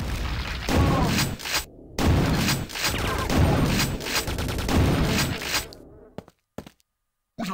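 Grenades going off in the video game Quake 2, a run of heavy booming blasts with crackling debris over several seconds, loud and close, then stuttering cutoffs and near silence at the end.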